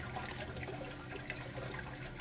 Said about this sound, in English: water coming out from the top